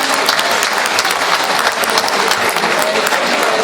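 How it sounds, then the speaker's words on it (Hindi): A large audience at a classical music festival applauds the performing artist with dense, loud, sustained clapping that fills the whole stretch without a break. "तो मैं चाहता हूँ कि सब इनके लिए एक बार जोरदार तालियों से इनका ऑनर करें।"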